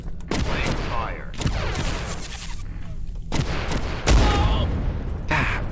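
Gunfire in Abiotic Factor: bursts of sharp shots in clusters separated by short gaps, loud and close, with echoing tails and one heavier thump near the end.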